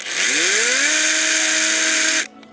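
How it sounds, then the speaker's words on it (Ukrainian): A Volpi KVS5500 cordless 20-volt mini chainsaw spins up with a smooth soft start, rising in pitch to a loud, steady high-revving buzz close by, then cuts off abruptly after about two seconds. "Ну, вона реально гудить якась міні-акумуляторна 20-вольтова пила."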